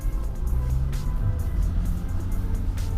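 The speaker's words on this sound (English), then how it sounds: "So let's take the vehicle off-road a little bit here. We've got some pretty hectic puddles." A Volkswagen Amarok in 4-wheel drive with traction control off rolls through deep muddy puddles off-road, its engine a steady low rumble with faint splashes and knocks above it, no voices.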